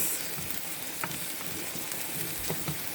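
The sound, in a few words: collard greens simmering in a pot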